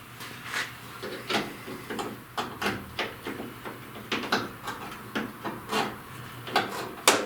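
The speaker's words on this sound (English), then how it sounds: "the next thing I'm going to try, like I said earlier, is my ratchet wrench" Ratchet wrench turning a nut while removing stainless trim on a 1930 or 1931 Ford Model A, a regular series of short clicking bursts repeating about every half second, close but fairly soft.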